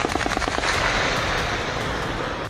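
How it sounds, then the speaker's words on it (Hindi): Rapid gunfire as the Pakistani army fires on protesters near a Rawalakot convoy in PoK: a fast, loud burst of shots at the start, then a dense, sustained rumbling wash of outdoor noise. "रास्ता खुलवाने के लिए पाकिस्तानी सेना ने प्रदर्शनकारियों पर फायरिंग की।"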